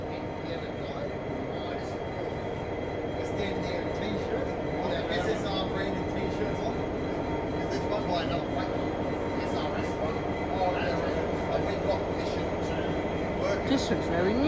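A train stands at Strathfield station with a steady low rumble of rail traffic and station ambience, quiet and distant, with scattered faint clicks and a voice talking over it.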